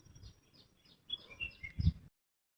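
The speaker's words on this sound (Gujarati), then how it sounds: "જવો ચકલાને એવું બોલે છે." Sparrows chirp in the morning outdoors, giving a few faint, scattered high tweets over quiet background noise that end abruptly.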